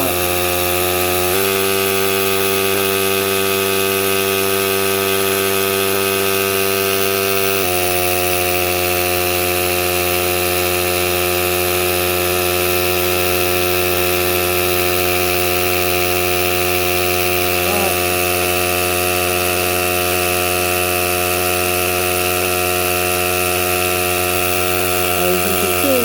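A compressor converted from a Slash 4x4 brushless motor runs steadily for the whole stretch, a loud continuous electric whine with a pitch that shifts once early on and again a few seconds later, heard alone without talk.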